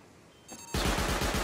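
Rapid automatic turret gunfire erupts loud and close during a video game raid, a dense rattling burst after a brief quieter lead-in, continuing steadily to the end.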